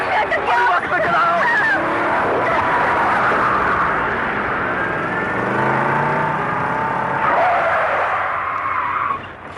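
Car stuck in reverse gear being driven, a loud straining engine whine with tire skidding and rising and falling revs, under excited shouting voices throughout.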